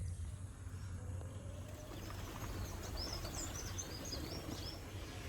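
Scattered high chirps from several birds in a village over a steady low outdoor hum, fairly faint and distant, with no talking.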